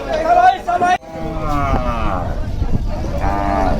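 Cattle at a Hazratpur market before Qurbani give drawn-out moos, one near and loud at the start and more lowing after, over crowd babble and people talking.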